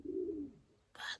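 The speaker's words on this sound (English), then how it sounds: "Is that a seagull?" A bird heard from indoors in a sewing room, calling twice in quick succession: a low cooing note, then a short, brighter cry, faint and somewhat distant.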